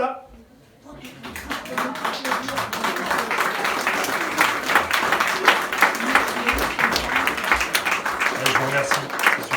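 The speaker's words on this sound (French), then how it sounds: "Ça fait vachement de bien de se faire applaudir pour un coup de crayon" After a brief quiet start, an audience at an art event bursts into sustained, lively applause for a live pencil drawing, with dense clapping building and holding to the end while someone speaks over it.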